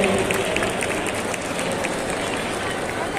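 Continuous applause greets a member of parliament coming onto the stage at an eco climate fair. The clapping is dense and steady for the whole clip, with crowd murmur and a voice underneath.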